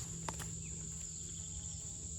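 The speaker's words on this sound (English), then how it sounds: "There's a little bee." A small bee buzzes in a creekside stretch of woods during deer scouting in North Carolina, a faint wavering drone set against steady high insect chirring and quiet forest ambience.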